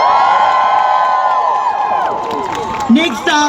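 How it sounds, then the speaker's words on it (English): A crowd at a nurses union rally cheers and whoops loudly, with voices shouting over clapping, fading slightly before a brief talking voice cuts in at the end. "Can we get another round of applause for Jean?"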